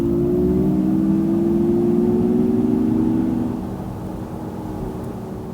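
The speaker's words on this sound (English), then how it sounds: "but you still do get this sort of sci-fi electric noise being pumped in through the stereo" Artificial sci-fi electric noise played through the stereo of a 2022 Mazda MX-30 EV, a smooth rising whir heard from inside the cabin that fades a little partway through, with no talking.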